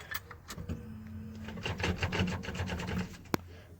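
A 1995 Jeep YJ Wrangler engine idles with a belt squeal, heard as a rough, rasping mechanical drone with rapid rhythmic pulses, fairly close and steady, ending with a sharp click.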